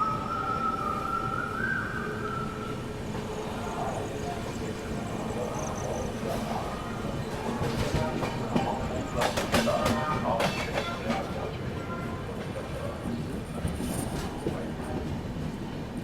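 The Vikramshila Express runs on rails with a continuous rumble and wheel noise, plus occasional metallic clatter and brief squeals, heard steadily from on board.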